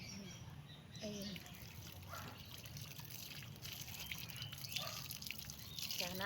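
Water splashes and trickles onto freshly planted garlic as it is watered, a steady close pour with occasional drips, while a person talks over it and birds chirp faintly in the background.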